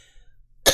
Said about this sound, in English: Excuse me, I'm sorry to be coughing.